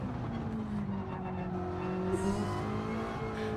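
A naturally aspirated race car engine in a racing video game hums and revs through gear changes, its tone rising and falling steadily with a brief tire-squeal-like flick, with no one talking.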